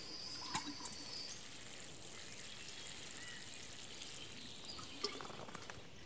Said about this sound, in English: I'm going to water my little guy here.